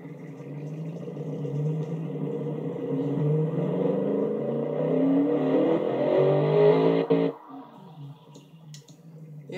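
A video game car exhaust fitted with reverse flow mufflers revs steadily upward, a moderately loud rising engine drone that cuts off abruptly near the end.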